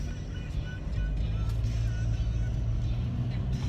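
A car drives along as heard from inside the cabin, with a steady low engine and road hum that swells slightly after the first second and holds constant.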